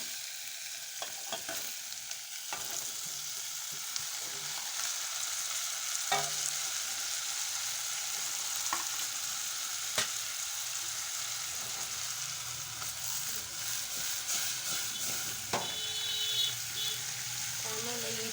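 Onion and drumstick pieces fry in oil in a pan for a drumstick palya, giving a steady, close sizzle and crackle with occasional stirring clinks throughout.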